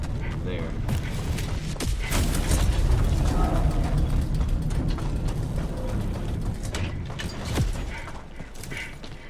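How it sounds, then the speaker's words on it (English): A heavy gate swings shut in Helldivers 2 with a loud, sustained mechanical grinding and ratcheting over game noise, ending in a thud. "I'm gonna close this gate"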